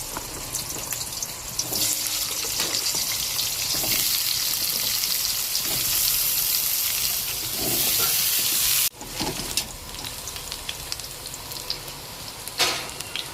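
Potatoes frying in hot oil in a pan, a loud dense hiss and crackle running steadily throughout, briefly cut off once before resuming.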